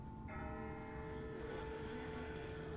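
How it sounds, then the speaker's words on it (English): A distant bell tolls in The Walking Dead video game, its faint sustained ringing tones hanging over a low ambient rumble, with no voices. "That's not the same bell as before. This one's further off."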